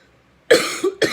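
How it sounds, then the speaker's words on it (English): A person coughs twice in quick succession, a sharp loud burst followed by a second shorter one, close to the microphone in a quiet room, with no talking. "I'm sorry I'm coughing so much."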